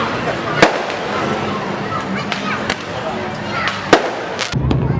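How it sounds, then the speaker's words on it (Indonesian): New Year fireworks and firecrackers go off over Carocok Beach, sharp cracking bangs scattered irregularly over a dense crackling wash, with a voice talking through part of it. "Kembang api dan petasan memenuhi langit Pantai Carocok."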